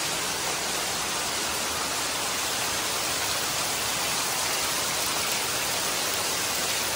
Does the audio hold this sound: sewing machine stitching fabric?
no